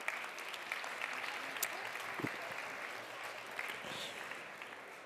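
A room of listeners claps for two guests joining them on stage, a soft, distant and even patter of applause lasting throughout with a few sharper claps standing out.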